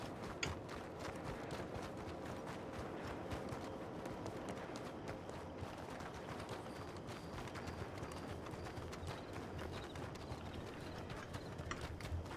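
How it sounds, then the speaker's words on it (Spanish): Horse hooves gallop in the RedM game, a fast continuous drumming of several horses. The sound is faint and distant under a steady wash of background noise. "He escuchado caballos."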